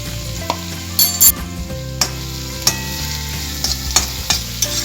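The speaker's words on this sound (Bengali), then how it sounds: "হলুদটা দিয়ে আর একটু ভাজবো যাতে কাঁচা হলুদের গন্ধটা চলে যায়" Vegetables with turmeric powder frying in a pan for homemade veg chowmein, a steady sizzle broken by several sharp clacks and scrapes of a spatula stirring against the pan, close and fairly loud, no voices.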